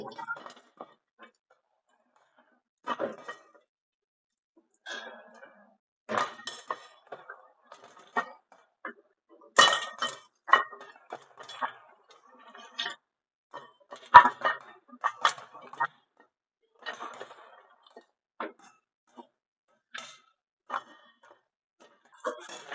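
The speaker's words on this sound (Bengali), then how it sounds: "পপকর্ন হওয়া শুরু হয়ে গেছে।" Popcorn pops inside a covered pot, giving scattered sharp pops and rattles against the lid at irregular intervals, with quiet gaps between them.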